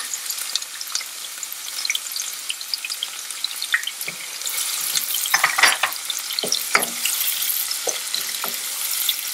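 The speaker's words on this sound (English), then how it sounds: "Oil is pretty hot here. I'm going to add the half chopped onions here." Half-chopped onions go into very hot oil for a spicy tomato gravy served with grilled fish. The result is a steady crackling sizzle, with a few brief scrapes and stirring taps toward the end.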